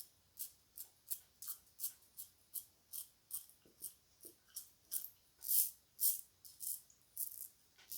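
A razor with a scratchy blade scrapes across skin in short, regular strokes, about two per second, crisp and close in an otherwise quiet room.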